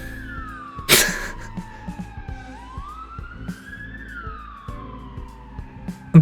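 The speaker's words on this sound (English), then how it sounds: "The police siren is already going off." Police siren in a video game, a wailing tone rising and falling in long sweeps over background game noises and clicks, with a sharp burst near the start.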